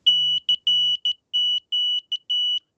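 A small piezoelectric sounder driven by a Morse keyer gives sharp, high, pure beeps in a fast pattern of short and long tones, clean and close with no background noise.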